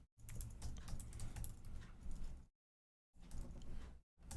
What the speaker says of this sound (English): you're going to have to check my typing from this distance